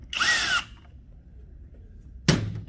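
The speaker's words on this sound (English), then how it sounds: "To replace the wiring assembly, we first remove the six screws." A power drill removes screws from the main handle of an EGO tool, two short close whirring bursts separated by a quiet pause.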